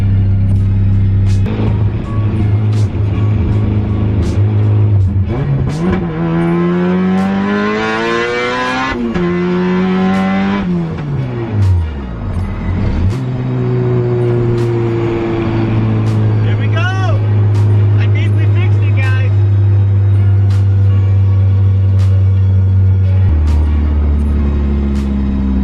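A Honda Integra engine revs hard through a test pull, loud and close, its pitch climbing through successive gears with brief dips at each shift before settling into a steady drone.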